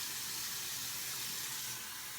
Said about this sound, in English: we're going to put a little hot water in it, let it soak for a little bit before we use it